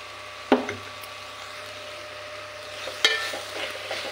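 Onions coated with turmeric fry quietly in a pan during potato masala curry preparation, with a soft sizzle under a couple of sharp spoon scrapes and clicks against the pan.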